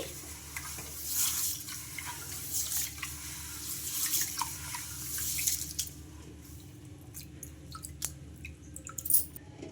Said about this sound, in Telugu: ఇలా బాగా బ్రష్ చేసుకుంటూ వాష్ చేసుకోవాలి